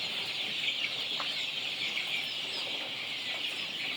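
Young chicks being raised on a farm cheep and peep in a steady, dense chorus that fills the whole stretch, with no voices present.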